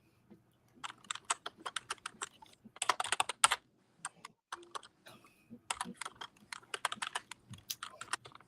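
Keyboard typing clicks away in irregular bursts of quick keystrokes with short pauses between, fairly faint and close, with no talk over it.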